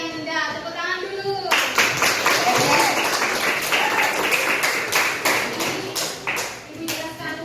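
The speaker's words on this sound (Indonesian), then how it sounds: "Tepuk tangan dulu." Children in a classroom burst into applause after a brief stretch of speech, with close, sharp, uneven claps that keep going to the end.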